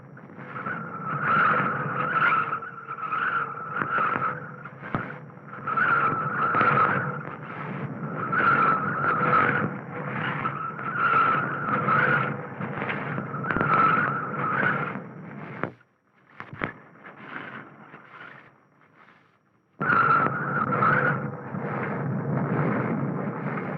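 A car winds down San Francisco's crooked street, eight hairpin turns packed into a single block, its engine droning loud and steady with a squealing tire tone, briefly dropping away near the end before roaring back.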